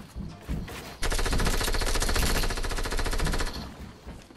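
A rapid burst of automatic gunfire rattles out during a video game duos shootout, loud and continuous for a couple of seconds after some softer background sounds, then cutting off abruptly.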